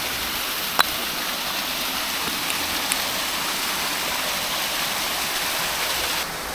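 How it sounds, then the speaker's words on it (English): A small waterfall on a cold winter trail rushes in a steady, loud, broadband roar from close by, with a couple of faint clicks and no talking. "So, nice little waterfall here on this trail system."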